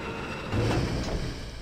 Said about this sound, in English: Thankfully we have a nice little elevator here.